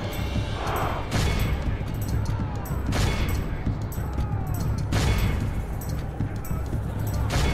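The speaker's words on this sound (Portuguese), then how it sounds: "Enquanto o nosso exército tá metendo tiro aqui nos caras." Rapid massed gunfire crackles from an army in a battle in the video game Medieval 2: Total War, with dense volleys and louder bursts recurring at a steady pace.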